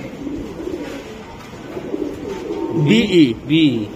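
A Belgian-bred racing pigeon at a loft gives soft, rolling coos that swell into two louder, distinct calls near the end, close by, while someone talks over them.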